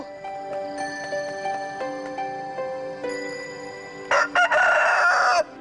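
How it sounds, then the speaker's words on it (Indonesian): Over a light musical backing, a rooster crows loudly and close by in one long call near the end. "kalian pasti akan dengar ayamku berkokok"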